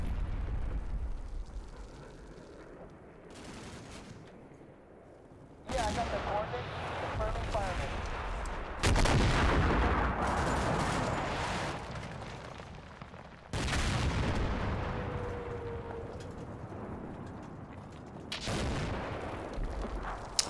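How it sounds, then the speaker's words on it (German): Artillery shells land during a modern-warfare battle in Combat Mission Black Sea, with several heavy, rumbling blasts breaking out at intervals between quieter stretches, loud and booming. "Unsere Artillerie räumt in dem Wald ganz gut auf."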